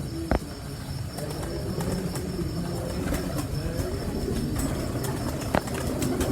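Pigeons cooing softly in a breeder's loft, low murmuring coos under steady background noise, with a couple of brief sharp knocks.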